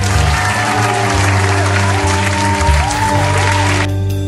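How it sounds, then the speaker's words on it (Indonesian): A Sunday school congregation at GPI Immanuel Bandung claps hands, a dense, loud patter over steady sustained music that cuts off near the end. "Beri tepuk tangan."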